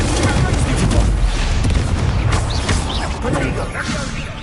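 A fire spell, Incendio, cast in the wizarding game Hogwarts Legacy gives a loud, continuous roaring burst with crackling booms and impacts that fill the whole stretch and carry a spoken incantation over them.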